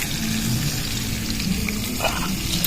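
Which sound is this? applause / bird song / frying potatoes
frying potatoes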